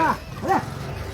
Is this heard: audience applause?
no